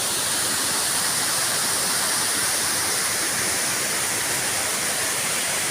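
Dahoyhoy Falls in Mauban pours in a steady, loud, broadband rush of falling water, close and continuous with no pauses.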